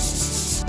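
Sandpaper of 320 grit rubbing over sealer-coated wooden furniture, a close, loud, steady abrasive scrubbing held for a brief stretch with no voices.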